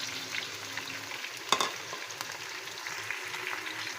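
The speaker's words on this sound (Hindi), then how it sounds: "इसको हम धीमी आंच पे 7 से 8 मिनट तक फ्राई करेंगे" Chicken frying on low heat in a karahi-style pan with cinnamon and black cardamom gives an even, soft sizzle with one sharp scrape of a utensil partway through, close and fairly quiet, no voices.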